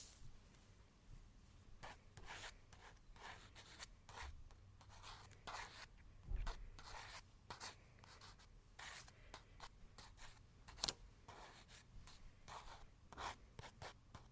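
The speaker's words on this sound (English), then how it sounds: "I'm going to get started on the sketch" A pencil sketching a face on paper in a quiet room, with soft irregular strokes and scratchy rubs coming in short bursts, close and faint with no voices.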